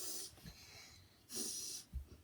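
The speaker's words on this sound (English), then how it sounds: "Wait, let me sniff it out." A person sniffs twice through the nose at close range, each sniff a short breathy hiss separated by a brief pause.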